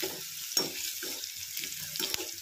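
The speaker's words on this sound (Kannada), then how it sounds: "ಈಗ ಈರುಳ್ಳಿ ಚಂದ ಫ್ರೈ ಆಗ್ಯಾವ ನೋಡ್ರಿ." Onions frying in a pan for a North Karnataka-style brinjal palya, with a steady close sizzle and crackle under rhythmic stirring scrapes, alone with no talking.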